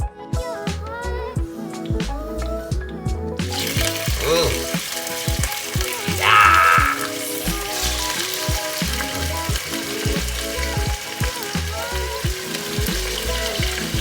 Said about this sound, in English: what I am trying to do is brown the meat